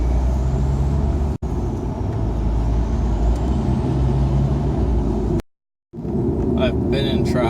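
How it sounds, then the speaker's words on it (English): Cars and trucks idle and creep along in stop-and-go highway traffic, a loud steady engine rumble heard from inside a vehicle, broken by two brief dropouts near the start and end. "I've been in traffic now for 2 hours. Stop and go. Stop and go."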